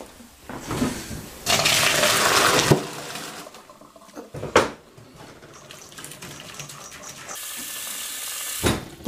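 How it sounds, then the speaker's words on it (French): Water from a pot of cooked beans pours into a sink or colander in a home kitchen, a steady rushing splash that comes in a few surges, with clanks of the pot and no talking. "je les égoutte."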